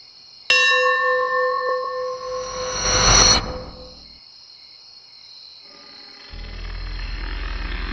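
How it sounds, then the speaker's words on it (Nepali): A temple bell rings at midnight in a Nepali village horror story, one bright metallic strike ringing out with a long decay, followed by a swelling whoosh and then a low dark rumble, with crickets in the background. "मन्दिरको घण्टीको आवाजले अर्जुनलाई बिउजायो"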